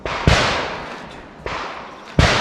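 Three sharp, loud shotgun blasts from a Beretta 1301 Tactical or IWI Tavor TS-12, spaced about a second apart, each a hard crack trailing into a long fading echo outdoors.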